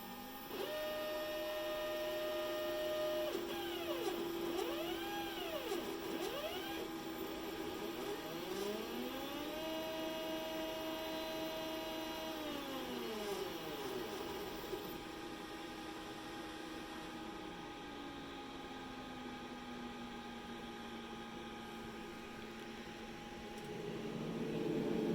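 A Glowforge laser cutter cuts through a sheet of medium draft board, a steady mechanical whir with fan and exhaust noise under repeated sweeping tones as the head moves back and forth, continuous and fairly close with no talking.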